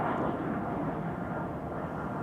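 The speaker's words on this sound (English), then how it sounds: "Next up Air France with an Embraer 190, I think." An Air France Embraer 190 jet at Amsterdam Schiphol Airport, heard as a steady, broad engine roar at moderate distance, unbroken and without talk.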